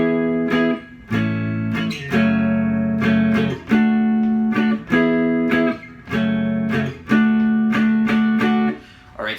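A close guitar plays a repeating four-bar ending chord progression, with steady, evenly spaced strummed chords that ring out between strokes for several bars.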